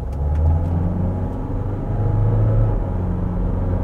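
A Renault Kadjar 1.6 dCi diesel with X-Tronic automatic accelerating hard, heard from inside as a loud, steady low engine drone and road rumble that holds without clear gear breaks.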